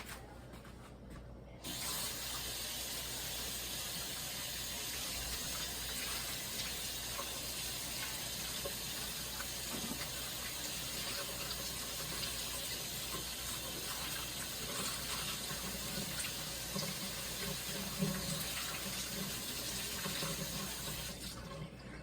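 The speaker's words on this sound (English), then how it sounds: "Let me go wash my hands again." Steady tap water runs into a kitchen sink during handwashing while making homemade biscuits, a continuous close gushing stream that starts abruptly and holds at an even level throughout, with no talk.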